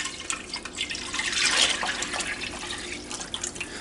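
Pork stock pours into a pot in a continuous splashing, trickling stream that swells in the middle and then settles, close and fairly soft.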